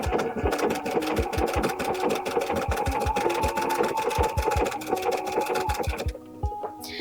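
Rapid, steady stitching of a sewing machine running through quilting fabric, loud and close, with a regular mechanical chatter that stops abruptly near the end, leaving a quieter tail.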